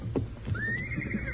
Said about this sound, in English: And that's his horse, too.